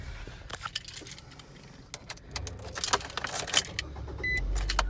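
A small rental car in Orlando starts up and pulls away, with keys jangling, clicks and door or window noises over a low engine rumble that swells near the end.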